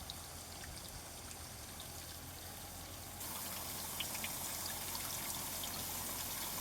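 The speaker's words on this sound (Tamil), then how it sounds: "தண்ணி அருமையான தண்ணி" Water flows steadily on a three-acre farm plot near Paramankurichi, a continuous broadband rush and trickle with no voices, growing slightly louder partway through.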